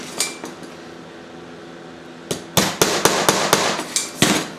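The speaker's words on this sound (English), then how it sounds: "Each one of these marks I'm putting the brad nail in that will fold this batten around." Brad nails are hammered into a wooden batten: a single tap, a pause, then a quick series of about eight sharp, ringing hammer strikes close by, each with a short metallic decay.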